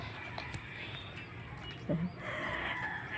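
Backyard chickens clucking while being fed grain, faint soft clucks and one short louder call near the middle against quiet outdoor background.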